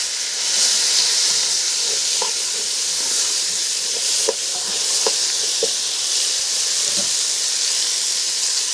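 Rice grains going into a sizzling pot: a loud, continuous hiss and sizzle of hot fat with a few scattered soft clicks and taps from the pot.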